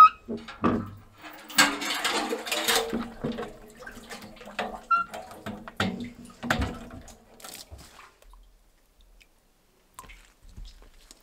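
Fresh water being scooped and fetched from a cold spring outdoors: close splashing, sloshing and dripping in irregular bursts that fade to near silence toward the end.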